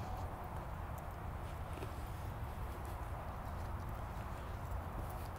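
A horse's hooves clip-clop at a steady walking rhythm during a riding exercise, faint under a broad ambient hiss.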